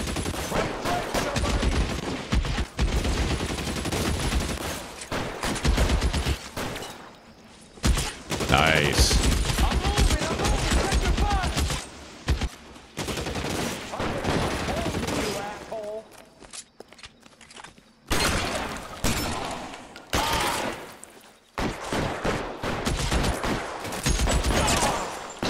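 Gunfire in the video game L.A. Noire comes as loud bursts of shots and fusillades, mixed with game sounds and hoofbeats, while someone talks over much of it.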